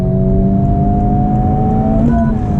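Honda Civic Type R in R mode pulling hard under acceleration, a loud, steady engine drone close by with rising harmonics, no talking.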